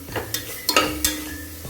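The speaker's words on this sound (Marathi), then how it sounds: "सर्व मिक्स करून घ्यायचं आणि तेल सुटेपर्यंत शिजवून घ्यायची ग्रेव्ही" Onion-garlic masala gravy sizzles in hot oil while being stirred, giving a steady frying hiss with several quick scraping stir strokes close by.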